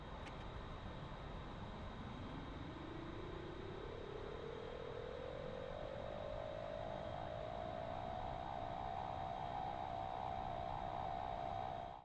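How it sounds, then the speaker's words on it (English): An AIM-9 Sidewinder seeker in a DCS F-14 flight simulator cools and spools up: a steady whine rises slowly in pitch and then holds, over a constant cockpit hum, alone and clear. "it takes up to 60 seconds for the Seeker to spool up completely"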